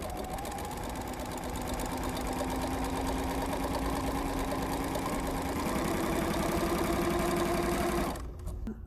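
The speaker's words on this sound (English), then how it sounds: "We'll see what happens when you punch it." An embellisher machine punches chenille yarn into fabric, a loud, steady mechanical chatter of rapid needle strokes running for about eight seconds before stopping abruptly.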